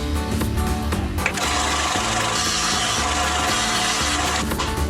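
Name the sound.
power tool switched on to bevel RC car suspension parts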